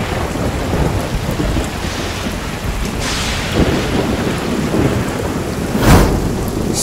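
Steady, loud rain falls through a thunderstorm, while thunder cracks and rumbles break through twice, the second one stronger, with no voices.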